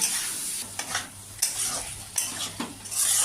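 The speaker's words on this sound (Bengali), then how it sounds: "আলু দিয়ে আমি কিছুক্ষণ কষতে থাকি" Boiled potatoes being stir-fried in a pan, with repeated scraping strokes of a spatula over a steady sizzle and occasional clinks of metal on the pan, close and alone.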